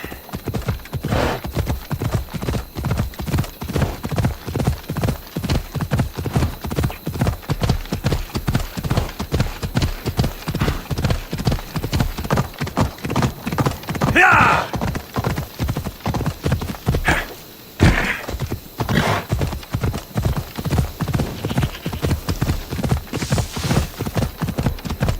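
Horse hooves galloping in Assassin's Creed Odyssey, a steady, rapid clip-clop rhythm up close that runs the whole time with a brief break, plus an occasional whinny.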